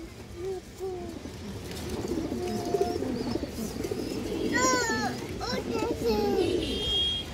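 Pigeons at a Bangladeshi breeding farm coo in soft, repeated rolling notes close by, with other birds calling and people talking over them.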